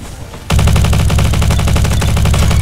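Rapid automatic gunfire from the Roblox shooter game Bad Business erupts after a half-second pause, a loud, sustained burst of closely spaced shots continuing steadily to the end.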